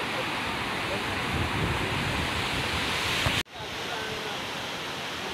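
Water rushes steadily along a stream as a loud, continuous broadband wash that fills the scene, cutting briefly and then resuming at a similar level.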